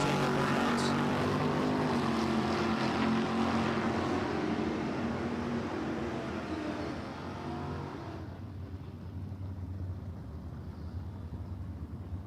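Drag racing cars do burnouts at Empire Dragway, a loud, dense engine roar that holds for several seconds and then drops away to a lower, quieter rumble.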